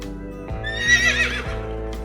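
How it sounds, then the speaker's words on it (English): A horse whinnies in a loud, close, wavering neigh lasting about a second, with a few hoof clops underneath. "The horse says neigh."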